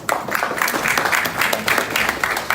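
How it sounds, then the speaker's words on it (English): Brief, lively applause from a summit audience welcoming a keynote speaker, many hands clapping close together at an even level. "Please, a round of applause for him."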